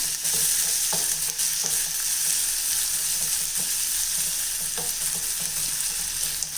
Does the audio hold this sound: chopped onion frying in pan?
yes